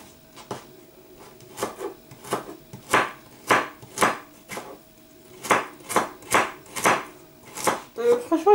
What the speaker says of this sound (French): Donc je vais essayer de le couper vraiment en petits morceaux.